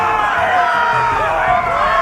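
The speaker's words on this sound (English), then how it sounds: "Hear that, boy? We cannot let the crowd go wanting!" Arena crowd cheering in the Game of Thrones Telltale video game: a steady, loud roar of many voices shouting and whooping throughout, with no gaps.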